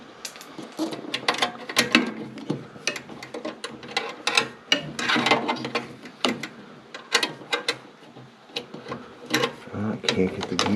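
Ratcheting gear wrench working in a tight spot near a furnace flame sensor: quiet irregular clicking and mechanical ticks in uneven bursts, close by, with occasional faint voice sounds.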